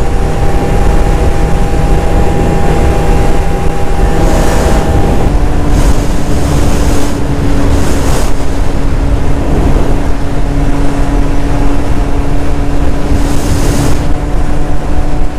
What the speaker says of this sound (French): Moi, j'entends juste le vent, là.